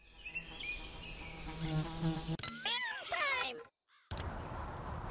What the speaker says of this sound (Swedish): Fluga.